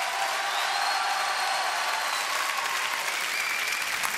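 A French television studio audience applauds Les Rita Mitsouko. The clapping is loud, dense and even throughout, with faint whistles or cheers mixed in.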